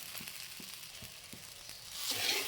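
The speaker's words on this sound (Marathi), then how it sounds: "गॅसची फ्लेम कमी केल्यानंतर आपण सारखं हलवत राहायचं जोपर्यंत खिचडीचा कलर बदलत नाही" Sabudana khichdi fries in a pan over a lowered gas flame, sizzling steadily while a spoon stirs it with soft, regular scraping strokes. The sizzle swells near the end, and no one speaks.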